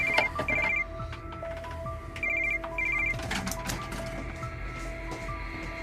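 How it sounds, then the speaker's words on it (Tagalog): A cellphone ringtone plays in repeated short melodic bursts, fairly close and clear over a low background hum, with no talking. "bigla na lang nag-ring ang cellphone ko."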